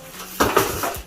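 A metal griddle lifted off a Samsung 5.8 cu. ft. freestanding gas range, a few close clanks and scrapes of metal on the grates in quick succession.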